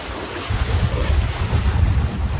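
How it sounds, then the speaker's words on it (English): Strong wind buffets the microphone over surging waves as a budget sailboat heads south in building breeze, a steady loud roar with low rumbling gusts and no voices. "I don't think the wind is gonna go decrease, it's only gonna increase"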